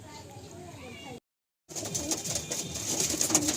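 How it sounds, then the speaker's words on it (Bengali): Pigeons in a loft give low coos amid rustling, with a short silent gap before a louder, busier burst of bird noise. "এই লফটের যত পায়রা আছে"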